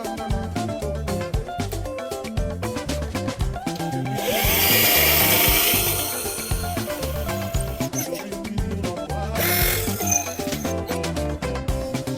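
A power drill bores holes for the bolts of a rear drawer unit being fitted in a Trailblazer, with a louder whirring burst in the middle, a shorter one later, and clinking and rattling of parts around them.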